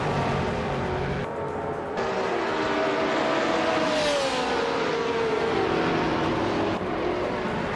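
GTS race cars in a video game race on a tight-cornered circuit, engines droning steadily and loudly throughout with a rising and falling whine as the cars accelerate and shift, no talk.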